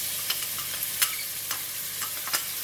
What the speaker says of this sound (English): Fry the onion first.